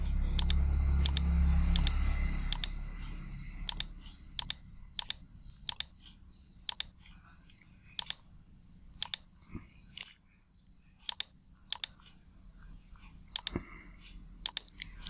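Sharp, isolated mouse clicks land one at a time at an irregular pace while someone toggles slide checkboxes to import a Canva presentation into Quizizz, each click close and dry against a quiet background after a brief low rumble at the start.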